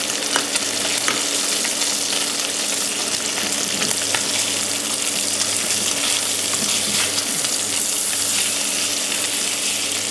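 Bacon frying in a pan, a loud dense sizzle with bursts of crackle that run unbroken and close for the whole stretch, with no voices over it.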